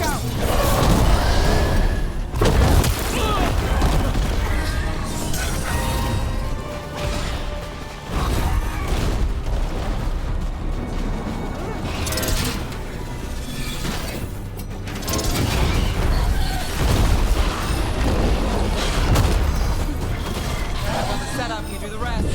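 Gunfire and explosions in the video game Dragon Age: The Veilguard, repeated heavy crashes and booms in irregular bursts over dense battle noise and music, with voices shouting between the blasts.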